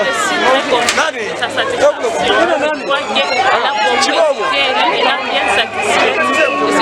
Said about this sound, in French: Mousse de fête, bruit de vuvuzela et de sifflets, les acclamations agrémentent l'ambiance dans cette institution universitaire